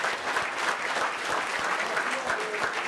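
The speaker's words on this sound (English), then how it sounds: "How about a nice round of applause for them?" A banquet crowd at a high school fall sports dinner applauds the kitchen staff with dense, steady clapping that fills the room for the whole stretch, with no single voice rising above it.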